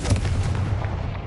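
A Confringo spell bursts in the Hogwarts video game as a short, loud, booming blast with a rumbling explosive roar that holds for just over a second.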